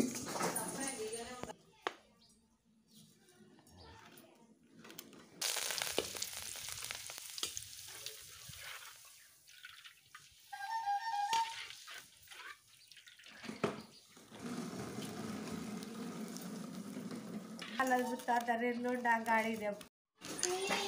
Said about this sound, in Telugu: ఇలా డైరెక్ట్గా కొమ్మలనే ఆయిల్లో అయితే వేయించాలి.